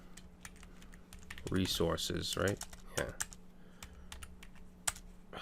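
Quick bursts of typing on a computer keyboard during coding work, crisp close clicks in uneven runs, with someone talking briefly over them.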